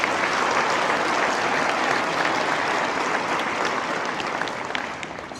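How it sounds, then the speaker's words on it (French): Sustained applause from an audience at an agricultural hall of fame ceremony in Quebec, dense, steady clapping from many hands that fills the room and fades slightly near the end. "mesdames et messieurs, applaudissons nos partenaires de la catégorie Bronze"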